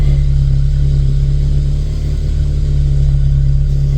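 A VW Vento with a freshly repaired gearbox drives along, its engine making a steady, loud rumble with a strong low hum and little change in pitch.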